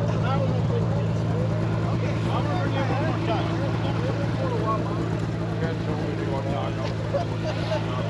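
Engine of a vintage Ski-Doo GSX snowmobile running at an outdoor snowmobile show in Hugo, Minnesota, a steady loud droning hum with no pauses, and people talking in the background.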